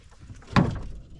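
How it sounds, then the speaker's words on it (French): A truck cab door opens and a retractable step unfolds beneath it, producing one short, close clunk with a brief rattling tail in a quiet setting. "Et quand tu ouvres la porte,"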